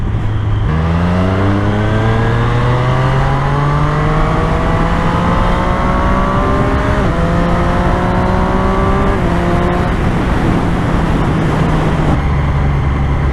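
A Triumph Street Triple motorcycle engine revs up hard through several rising pulls with gear changes, loud and close over steady wind and road noise.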